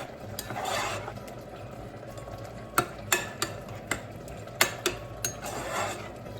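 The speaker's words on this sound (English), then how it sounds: "cooking up this beef until it looks a little bit" Beef cooks in a pan on the stove, a faint low sizzle broken by a series of sharp scraping and clinking spatula strokes against the pan, irregularly spaced over the second half.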